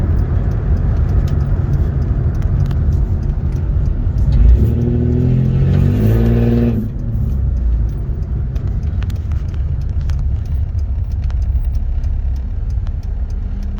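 A modded Toyota Camry engine revs hard under heavy throttle to around 4,000 RPM, climbing loudly then dropping back to a steady in-car drone with road noise, no talk.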